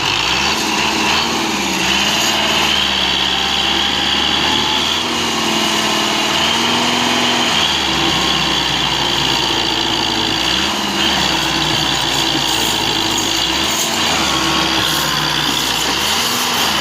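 A tractor engine runs while hauling a loaded sugarcane trolley outdoors, a loud, steady drone with repeated rises and dips in pitch as the engine works under load.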